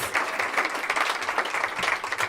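An audience applauds at a mayor's public announcement event, a dense, continuous patter of clapping from many hands that stays fairly loud throughout.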